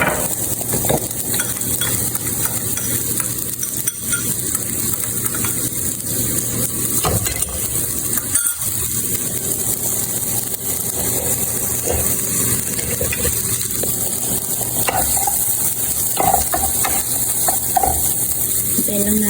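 Chopped onions frying in hot cooking oil for chicken masala, a steady dense sizzle running unbroken throughout with faint stirring and scraping, close and fairly loud, with no talking.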